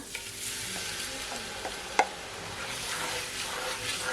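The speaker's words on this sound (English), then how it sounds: "I'm gonna add all that garlic sauce that I made." Garlic butter sauce hits shrimp in a hot pan, setting off a steady, close sizzle and frying hiss with light stirring scrapes and one sharp clink of a utensil against the pan.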